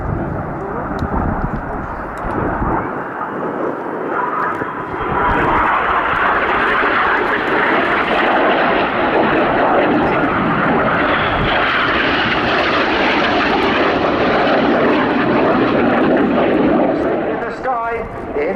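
Red Arrows jets flying in formation at an air display make a loud, continuous roar that swells and peaks as they pass, with a commentator's voice over the engine noise.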